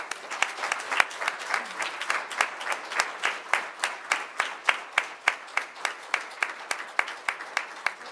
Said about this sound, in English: Please join me in one more round of applause